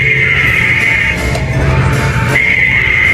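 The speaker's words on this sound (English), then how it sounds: "She's twitching and screaming" A twitching banshee animatronic Halloween prop in a Spirit Halloween store in Lewisville, Texas, lets out a loud, sustained, piercing shriek that wavers and breaks off for a moment before resuming, with no talking.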